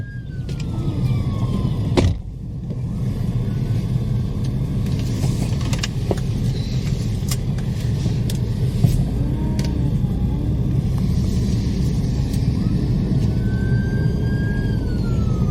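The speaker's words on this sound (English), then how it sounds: "It's the ambulance." A distant ambulance siren wails faintly over a constant low rumble of traffic and wind at a lookout spot in St Maarten, its pitch rising and falling a couple of times.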